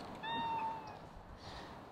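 A cat gives a single clear, fairly close meow that rises and holds briefly over quiet room noise.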